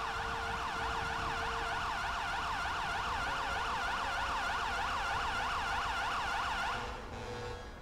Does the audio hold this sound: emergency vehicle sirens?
yes